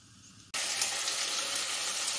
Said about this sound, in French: je fais revenir mes morceaux de lapin dans un peu d'huile d'olive